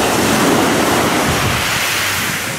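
Sea waves wash onto a beach in Turkey with a steady, loud roar of surf and wind-blown hiss that fills the whole clip and fades slightly toward the end, with no voices.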